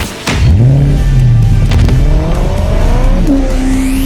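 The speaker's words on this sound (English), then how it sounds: "Just listen to the exhaust note, shall we?" A Mercedes-Benz SLK 55 AMG V8 bi-turbo engine revs hard and loud, its exhaust note rising in pitch through quick gear changes, a brief squeal at the start.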